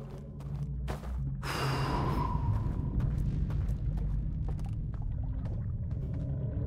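Engines start up in the video game Outer Wilds: a soft mechanical clunk, then a breathy hiss that swells into a steady low rumbling drone that carries on to the end.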